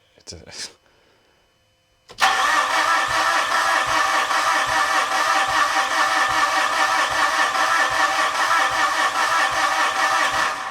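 A Mitsubishi Fuso FG truck engine cranks steadily and loudly after a brief voice and a short pause, the starter churning on without the engine catching for about eight seconds.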